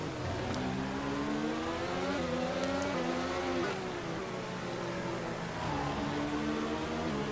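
Race car engine from a Challenge series racing event, heard as a steady roaring drone with pitch rising and falling through gear changes as it rounds the track, fairly distant, with no talk.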